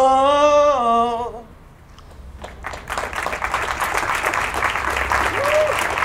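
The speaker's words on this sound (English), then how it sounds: "Some very hesitant applause there." A sung phrase ends, then after a brief lull a small audience breaks into hesitant, scattered applause that builds into steady clapping, with a voice briefly heard over it near the end.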